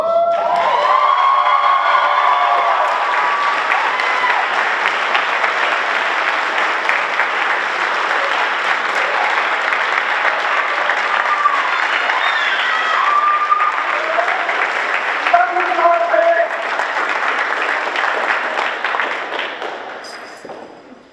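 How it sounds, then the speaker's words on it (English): A crowd gives a round of applause at a high school JROTC military ball, loud and sustained clapping with some cheering that fades out at the end. "At this time, can I please give one more round of applause?"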